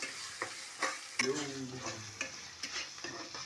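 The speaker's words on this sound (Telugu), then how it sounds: "కింద అడుగు మాడకుండా కలిపెట్టుకుంటూ ఉండాలండి." Country chicken curry frying on a low flame while being stirred, with a quiet simmering sizzle and repeated scraping strokes of a spoon against the pan at an irregular rhythm.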